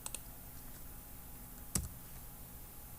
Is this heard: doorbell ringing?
no